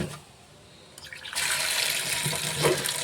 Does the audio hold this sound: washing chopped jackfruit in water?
yes